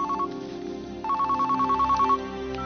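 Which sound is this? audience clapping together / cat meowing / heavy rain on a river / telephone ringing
telephone ringing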